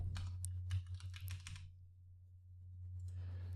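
A burst of quick keystrokes on a computer keyboard, loud and close over a steady electrical hum, pauses briefly, then a few softer taps follow at the end; no talking.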